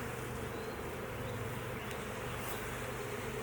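Honeybees buzz steadily in an open hive where comb is being built over capped honey, a dense, continuous drone close to the ear with no talk over it.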